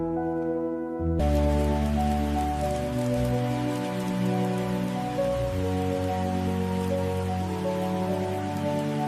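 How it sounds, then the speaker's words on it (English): Steady rain patters on a surface outside a cabin during a cold spell, a dense continuous hiss with many close drops and no voices. "The rain has finally returned. Yes, it's good to hear it again."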